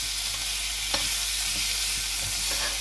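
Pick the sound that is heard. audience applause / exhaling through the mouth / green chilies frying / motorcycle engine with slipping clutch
green chilies frying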